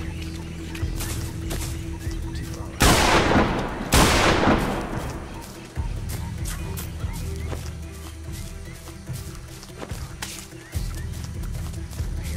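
Gunfire in the Primal Carnage dinosaur shooter game: sharp shots and short bursts recur throughout, with two loud, close blasts early on, over a rumbling in-game background and no talking.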